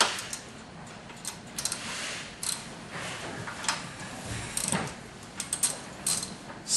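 Miter adjustment bolts are loosened on a Bosch 4412/5412 miter saw with a wrench, producing quiet, close metallic clicks and ratcheting ticks in an uneven rhythm.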